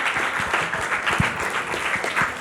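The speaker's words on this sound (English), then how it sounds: "Clap for them." Steady applause from a crowd at a semi-final heritage competition in Goa, dense and continuous throughout with no voices standing out.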